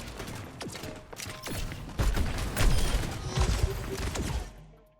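Junkrat's grenade launcher firing in Overwatch 2, a string of punchy thumping shots with clattering mechanical reload noises amid busy game effects, fairly loud and close.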